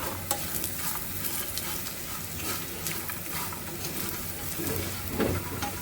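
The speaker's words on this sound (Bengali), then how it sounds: "এখন বড়িটা ভেজে নিচ্ছি" Lentil dumplings (bori) fry in a pan for an aubergine ghonto, giving a steady close sizzle with crackling pops and occasional stirring scrapes, one louder burst near the end.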